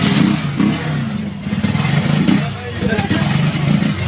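A Rusi TC motorcycle engine running close by with a steady low chugging idle and slight revving, while people talk over it.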